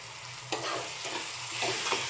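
Vegetables frying in a pan for North Karnataka style thalipeeth, a dense steady sizzle broken by several scraping stir strokes in quick succession, close and alone.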